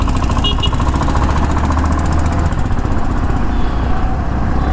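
Motorcycle engine held at high throttle, a loud, close, steady rattling drone with a fast pulsing beat that barely varies throughout.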